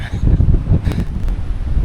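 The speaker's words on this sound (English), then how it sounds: "The winds are blowing at 25, gusting to about 40" Strong coastal wind of 25 gusting to 40 buffets the microphone in heavy low rumbling gusts, steady throughout with a couple of brief higher hiss bursts.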